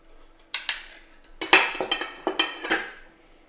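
Spoon mixing burger mince with egg and breadcrumbs in a bowl, giving a handful of sharp clinks and scrapes against the dish at an uneven rhythm, close and fairly loud with no talking.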